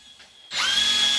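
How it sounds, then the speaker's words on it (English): Power drill spins up abruptly and runs at steady high speed, pre-drilling screw holes in wood for a woodworking tenoning jig, close and loud after a quiet start. "Time to pre-drill"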